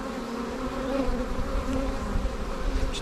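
Dense, steady buzzing of many honey bees crawling over the last frame of a production beehive, a continuous close hum with no talk.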